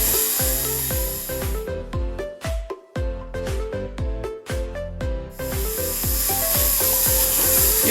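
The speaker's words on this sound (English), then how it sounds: "now we're going to sand it one more time in the inside with our 1500 sandpaper" Sheet of 1500-grit sandpaper rubbed against the inside of a handmade silver piece, giving a steady, close, rhythmic scraping hiss with back-and-forth strokes and a short lull near the middle.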